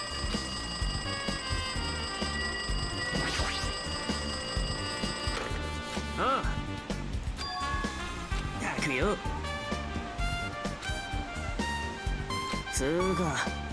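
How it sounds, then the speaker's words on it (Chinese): A telephone rings in the video game Danganronpa 2, its repeated bell-like tone heard under game music and chatter, with voices talking over it. "电话在响。"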